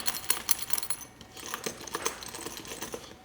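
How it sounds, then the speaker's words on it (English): Metal zipper pull on an Aer City Sling 2 bag jingles in a quick series of light, tinny clinks and taps, close and fairly soft. "the zipper is less jingly because it's a smaller piece of metal on the version 2"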